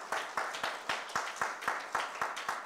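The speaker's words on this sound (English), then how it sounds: "I think Jesus deserved the best clap of praise." Church congregation clapping in praise at a worship service, a strong unified beat of about ten evenly spaced claps, rhythmic and moderately loud.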